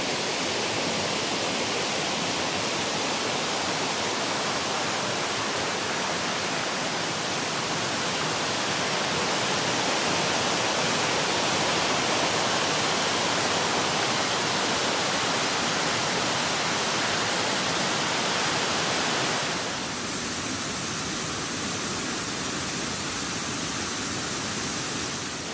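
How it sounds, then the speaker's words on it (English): Ricketts Falls at Ricketts Glen State Park cascades 38 feet, a steady, loud, broadband roar of rushing water heard from above that never lets up, shifting to a slightly softer, duller tone near the end. "I'm standing here above FL Ricketts Falls, 38 feet down, cascading waterfall."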